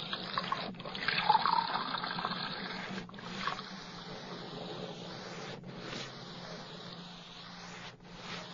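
Water is poured steadily into a glass for about eight seconds, a continuous close splashing and trickling with no speech over it.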